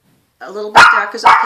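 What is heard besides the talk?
dog barking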